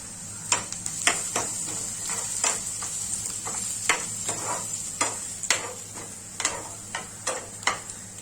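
Ginger-garlic paste hits sautéed onions in a hot pan for a Marathi egg curry, giving a steady close sizzle broken by frequent sharp spatula scrapes and taps as it is stirred.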